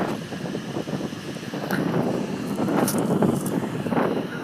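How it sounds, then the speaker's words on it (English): Blustery wind buffets the microphone at Big Wave Bay beach on the southern tip of Hong Kong Island, a continuous rumbling gust with fluctuating intensity. "It's a bit windy today."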